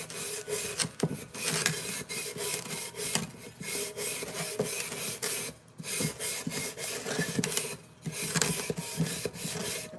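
The inside of a pottery piece is scraped and smoothed during glazing, a harsh, close rasping in repeated strokes with brief pauses between passes.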